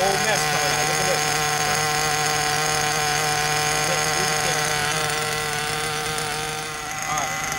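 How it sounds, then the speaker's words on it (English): A Werks B5 RC nitro engine runs loud and close throughout, its buzzing note holding steady with only a slight dip in pitch near the end. "when you're giving it throttle, there'll be a whole mess coming out"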